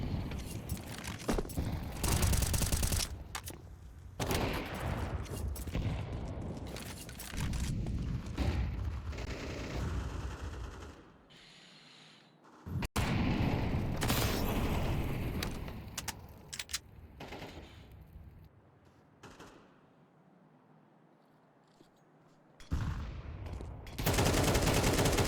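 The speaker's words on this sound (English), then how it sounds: "Another missed shot there from Icy, just can't collect." Counter-Strike match on the Nuke map in a professional tournament, with repeated bursts of rapid automatic gunfire and single shots, loud and close, broken by brief quieter lulls.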